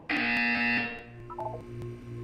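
A loud, steady electronic buzzer tone from the Portal video game's wellness exercise sounds for under a second, then gives way to a few softer stepped tones over a low hum.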